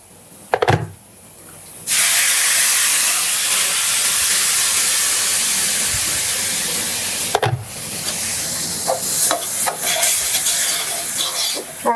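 Water poured into a hot pot of curried goat sets off a loud, steady hiss. After a couple of soft clunks, the hiss holds for about ten seconds, with a brief break and some faint clatter near the end.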